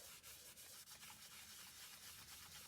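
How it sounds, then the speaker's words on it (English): A microfiber cloth buffs wax off a surface with quiet, continuous rubbing strokes in a soft, steady rhythm. "I'm just using a microfiber cloth to rub now and buff the wax off."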